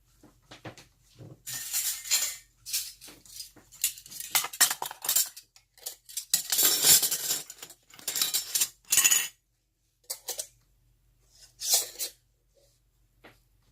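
Metal lids clinking and scraping onto glass canning jars of Italian seasoned mushrooms, a run of sharp, close metallic clicks and rattles in several bursts with short quiet gaps.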